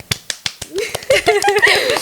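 Hosts of a chatty podcast open with their traditional clap: several sharp, evenly spaced claps ring out close and loud, then give way to voices talking.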